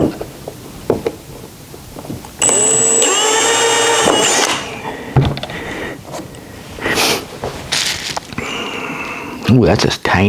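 A small power drill with a 3/32-inch bit whines at high pitch for a couple of seconds, then short bursts follow, with a person talking in between.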